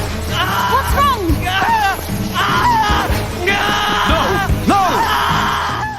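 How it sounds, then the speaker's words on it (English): Shulk, a young male character in a Xenoblade Chronicles video game cutscene, lets out repeated anguished screams and wailing cries in loud bursts, with rising and falling strained pitch over a dramatic background score. "when I first saw this scene and heard Shulk scream like this"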